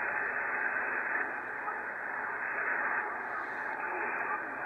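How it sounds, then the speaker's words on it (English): Ham radio receiver hissing with steady, high-pitched hash noise; a constant, even broadband static wash with no voices or signal breaking through. "Hear all that high pitched hash?"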